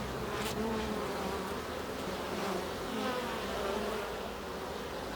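Steady, dense buzzing of many honey bees close by at a manuka honey hive, a continuous droning hum with no voices.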